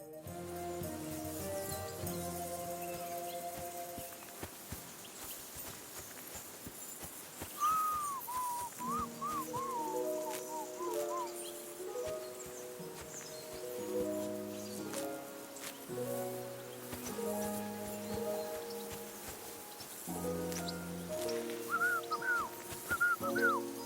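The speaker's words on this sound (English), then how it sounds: "Your whistling is getting on my fucking nerves the whole way." A character whistles a wandering tune while travelling along a road in Kingdom Come: Deliverance II, the melody rising and falling over steady game music and ambience.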